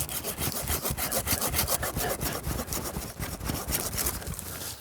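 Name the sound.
hand saw cutting off a tree branch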